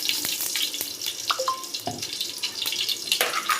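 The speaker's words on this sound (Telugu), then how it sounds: "అలాగే కొంచెం ఆయిల్ పోసుకుంటున్నా" Cooking oil poured into a pot for a two-kilo ghee biryani: a close, wet trickle and splash over steady kitchen hiss, with brief sizzling accents and no talking.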